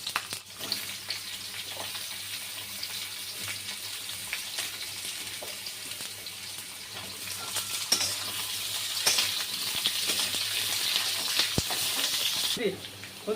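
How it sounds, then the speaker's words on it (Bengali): Carrots, potatoes and plantains fry together in oil for a Bengali home-style shukto, giving a steady close sizzle throughout with occasional light clinks of a utensil against the pan. "এবার গাজর, আলু আর কলাগুলো একসঙ্গে ভেজে নেবো।"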